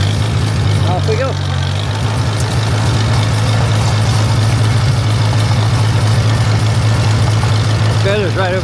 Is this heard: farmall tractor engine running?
yes